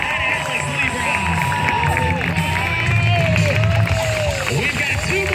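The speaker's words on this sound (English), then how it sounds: "One more round of applause for Rob Routley and Alex Liebrock." A fair crowd at an outdoor BMX stunt show cheers and claps steadily, with an announcer's voice talking loudly over the noise throughout.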